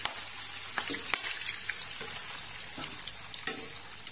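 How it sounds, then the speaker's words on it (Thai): Kaffir lime leaves fry in hot oil with a soft, steady crackling sizzle, scattered sharper pops and faint stirring clatter, quiet and near without speech. "ต่อไปน้องจะทอดใบมะกรูดนะครับ"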